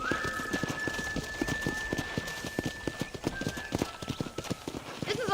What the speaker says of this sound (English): This is our horse corral.